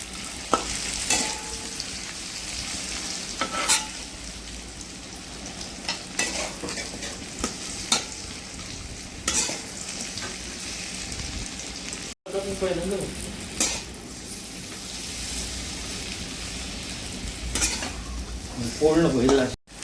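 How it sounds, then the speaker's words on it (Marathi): Dates frying in ghee in a pan for nutritious immunity-booster laddoos, a steady low sizzle with repeated scraping and stirring strokes, occasional utensil knocks, and a brief louder clatter near the end. "आता आपण ह्याच्यातच खजूर पण फ्राय करून घेणार आहोत सगळे पदार्थ आपण तुपामध्येच फ्राय करणार आहोत"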